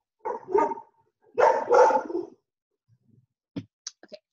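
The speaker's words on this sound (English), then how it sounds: "my dog Chloe is naughty and wanted to bark" A pet dog barks twice in quick pairs, fairly close and loud, followed by a few faint clicks and taps in an otherwise quiet room.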